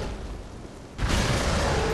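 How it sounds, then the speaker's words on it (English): An explosion in the video game Dark Souls 3 hits as a sudden loud burst midway, then a sustained rumbling roar after a quieter lead-in. "Explosion."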